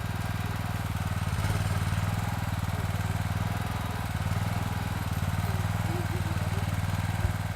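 A hydraulic crane's engine drones and thrums continuously at close range, a low, even rumble with no pauses.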